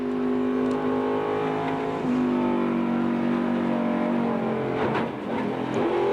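Onboard a NASCAR Winston Cup stock car at Rockingham in 1996, just after it tagged the wall off turn 2: a loud, steady V8 roar fills the whole stretch, with a brief dip in pitch and a hint of tire noise near the end.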